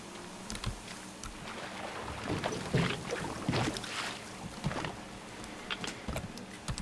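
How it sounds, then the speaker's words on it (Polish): Oars splash and dip as a small boat is rowed across water in the video game Metro Exodus, a quiet sequence of uneven strokes with soft clicks between them. "Czyli co, łódka i płyniemy."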